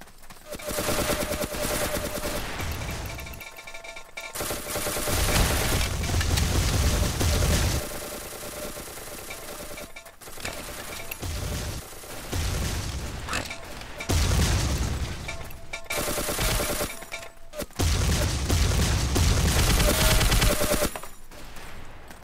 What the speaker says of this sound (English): Let me switch to SMG.